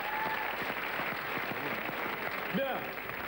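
Studio audience applause on a French TV game show, continuous dense clapping with a presenter's voice speaking over it.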